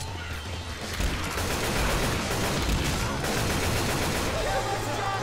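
Rapid gunfire from weapons in Left 4 Dead 2, dense bursts of shots running almost continuously at a loud level, mixed with game noise and voices talking over it.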